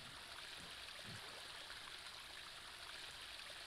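Steady flowing water in a Minecraft world, a continuous broadband rush like a stream or small waterfall, even and unbroken throughout at a moderate distance with no voices.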